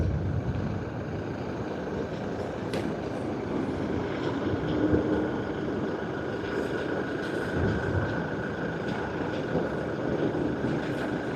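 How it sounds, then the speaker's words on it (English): Cathay Pacific airliner lining up on runway 16R at Sydney Airport, a steady continuous engine roar and rumble heard from a distance, with no talk. "we have Cathay Pacific about to line up on runway 16R"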